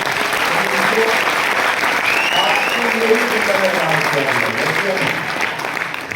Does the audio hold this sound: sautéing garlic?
no